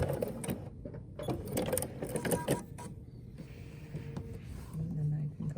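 A Bernina sewing machine stitches a back stitch in short, fairly quiet bursts of rapid mechanical clatter separated by pauses, with faint handling noises between runs.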